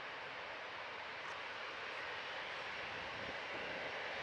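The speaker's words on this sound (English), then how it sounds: "here's EasyJet 2709 to Belfast" An EasyJet jet airliner bound for Belfast at Manchester Airport gives off a faint, steady engine rumble and hiss, distant and continuous for a few seconds without voices.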